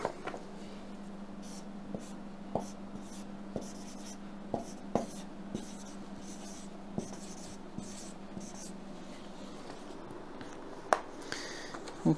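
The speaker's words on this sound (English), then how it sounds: "I'll write his name." Close, quiet scratching of a pen or marker writing by hand, with a string of small taps and strokes at irregular intervals over a low steady hum.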